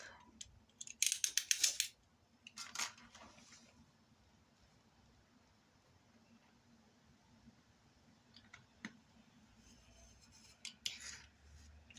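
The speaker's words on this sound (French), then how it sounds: "je marque 2 petits repères à la jointure ici et je coupe" Scissors snip paper while making a photo envelope album, with a quick series of close, crisp cuts early on, a couple of later isolated snips, and quiet handling noise between them.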